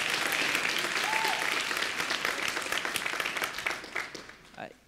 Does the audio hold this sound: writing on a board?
no